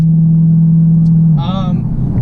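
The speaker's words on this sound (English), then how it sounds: "The supercharger sounds amazing and intoxicating. You can hear so much from the rear end of the exhaust." A 2016 Dodge Challenger Hellcat's supercharged engine holds a loud, steady idle drone, then drops off about halfway through as a voice begins talking over the lower rumble.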